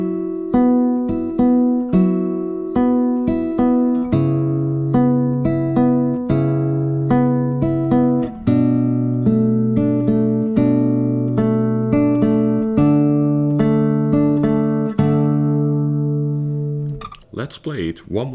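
Beginner fingerstyle arrangement of a song on acoustic guitar, steady plucked notes and ringing chord tones in a clear even rhythm, played alone up close for about seventeen seconds before a brief noisy handling sound at the end.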